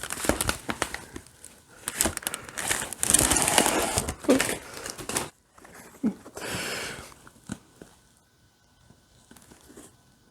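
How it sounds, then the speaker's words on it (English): A sturdy plastic bag crinkles and rustles in close, irregular bursts as new shoes are unpacked, loud for the first few seconds and then dropping to a few faint scattered rustles. "it's quite a robust plastic bag. Okay, let's take these out."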